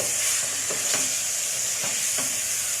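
Mutton liver frying with masala spices in a pan, a dense, loud, steady sizzle with a handful of stirring scrapes over it, no one speaking.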